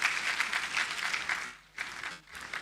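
A crowd applauds steadily, the clapping dipping briefly twice before picking back up, moderately loud and continuous.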